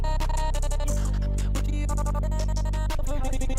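A trance-style Gross Beat volume gate chops a loud electronic music track into rhythmic on-off pulses, with a steady sub-bass line running under the choppy, stuttering upper layers throughout.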